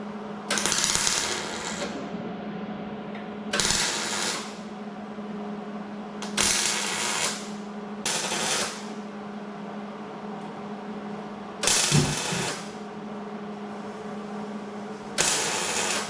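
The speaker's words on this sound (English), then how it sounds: "We can loosen up the rest of those bolts." An impact or ratchet tool loosens rusty bolts on the rear axle of a 1994 Jeep Cherokee XJ in repeated short loud bursts separated by a low steady hum.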